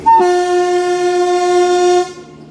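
A MEMU train locomotive sounds a single long, loud horn blast lasting about two seconds, steady and close, before cutting off abruptly.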